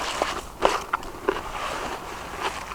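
Someone bites into a crunchy homemade dill garlic pickle, giving several sharp crisp crunches and crackles at irregular intervals, heard from a short distance against a faint background hiss.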